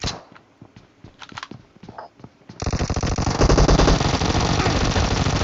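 In a PUBG team deathmatch, a few scattered footsteps give way to a loud, close, sustained burst of rapid automatic fire from UZI and Vector submachine guns, the spray continuing unbroken to the end.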